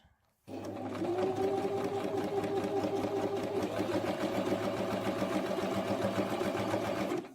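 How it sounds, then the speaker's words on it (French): A sewing machine runs steadily for about seven seconds while stitching a bag organiser sample, a close, even mechanical whirr with a constant motor hum and no pauses. "je couds à la va-vite vu que c'est juste pour faire un échantillon"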